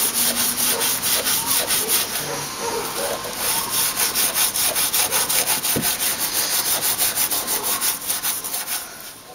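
Sanding body filler (bog) on a repaired steel panel of a Subaru Brumby, a steady rhythmic rasping scrub repeating fast and loud throughout, close up with no talking.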